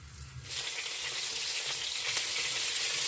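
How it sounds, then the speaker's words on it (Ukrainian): Meat patties (kotlety) laid into heated oil in a frying pan sizzle loudly and steadily, a dense crackling that jumps up after a brief quieter start and holds without voices. "Викладаємо в розігріту олійку, а потім прикручуємо."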